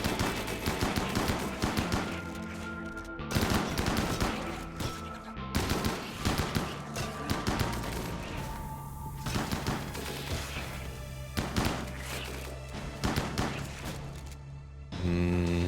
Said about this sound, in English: Well, they can start shooting.